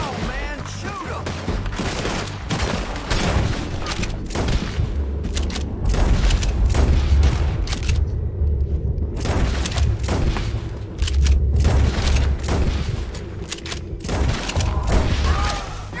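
Repeated gunfire from a shootout in Red Dead Redemption 2 crackles in sharp bursts and volleys, close and loud, with heavy booming stretches in between and voices shouting over the fight.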